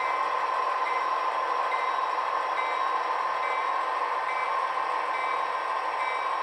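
An Athearn Genesis GP38-2 model diesel locomotive runs steadily on a layout, giving off a constant, even motor whine and rail hum that carries through the whole stretch at a fairly close, unvarying level with no voices.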